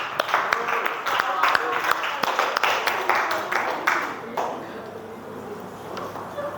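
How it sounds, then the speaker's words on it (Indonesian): A classroom of students claps together at the end of a lesson, a loud, dense burst of applause that fades out over several seconds into quiet room noise. "Tepuk tangan dulu semuanya"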